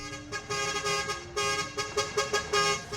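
A loud modified vehicle horn fitted with rapid-horn sound effects honks in a rapid series of short, musical, multi-tone toots, close and dominant.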